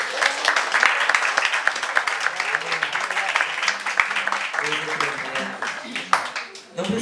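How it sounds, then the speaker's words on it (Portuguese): A church congregation claps hands together in worship, a dense continuous patter of many palms with voices mixed in throughout. "Levante suas mãos e bata palmas para Jesus."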